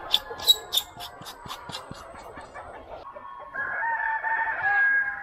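Dense, bright peeping from a flock of young chicks in a poultry house holding some 3,000 birds, loudest in the first second, then thinning out beneath a steady droning hum.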